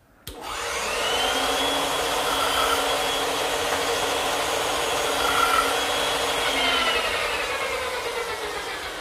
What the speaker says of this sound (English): Now the bandsaw is a good choice to remove the rest of the material to form the tenon.